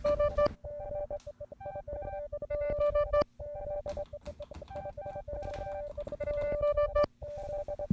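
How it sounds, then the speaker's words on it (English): A stutter loop delay effect in a nonlinear drone piece makes a skipping-CD-player sound: loud, chopped, repeating tonal fragments that stutter in rapid bursts, broken by abrupt short gaps. "that's a very complicated way of getting stuff that sounds like a skipping CD player"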